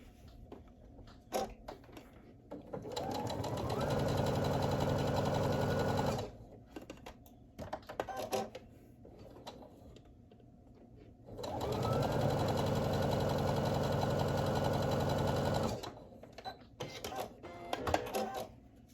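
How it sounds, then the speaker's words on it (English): A sewing machine runs a quarter-inch seam on quilt pieces in two long, steady motor bursts of about four seconds each. Soft handling clicks and fabric shuffling fill the pauses between stitching runs. "And now I'm just going to sew a 1/4 inch seam again right here."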